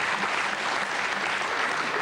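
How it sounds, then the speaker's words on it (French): A television studio audience applauds loudly in a dense, sustained roar of clapping that fills the whole moment without a break. "On applaudit bien fort."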